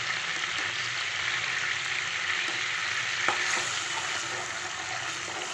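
Ginger garlic paste frying in hot oil in a pan, a steady close sizzle with faint stirring scrapes and a couple of small clicks, no talking.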